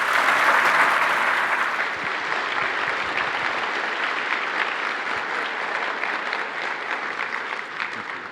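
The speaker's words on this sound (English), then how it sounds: "Please give them a round of applause." An audience at a panel event with city and university speakers gives steady applause, loudest at the start, then settling into a sustained, even clatter of many hands.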